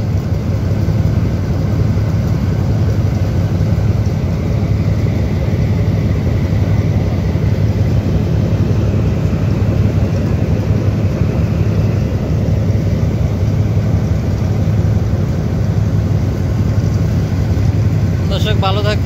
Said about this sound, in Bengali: অবশেষে টিপু 14 লঞ্চ ফিরে যাচ্ছে